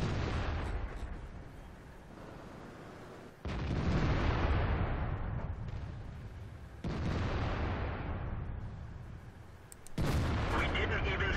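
Tank cannon blasts from a World of Tanks battle with an IS-3 heavy tank on the Hidden Village map: three loud, booming shots spaced a few seconds apart, each with a long rumbling decay under constant game noise.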